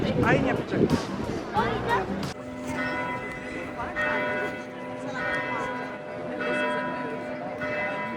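Hand-rung church bells peal after Sunday mass in Prague, sustained and resonant at a moderate distance, following a burst of crowd babble and heard beneath light background chatter.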